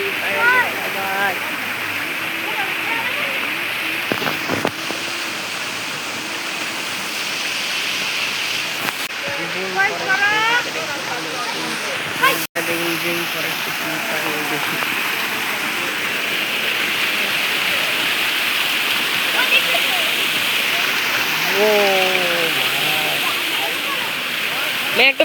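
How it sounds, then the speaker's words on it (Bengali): A waterfall rushes steadily in a continuous broad wash, while people talk over it on and off. "এই যে আমি ঝর্ণার এখানে"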